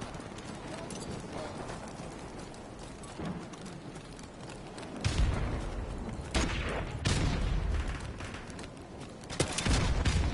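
Shots ring out in a Call of Duty match, sparse at first and then sharper, louder cracks in the second half over a busy background of footsteps and battle noise.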